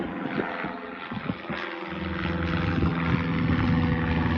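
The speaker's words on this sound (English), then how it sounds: "You do get to watch some planes take off if you get over here." A distant airplane taking off drones and slowly grows louder and steadier, a low humming roar building over a few seconds.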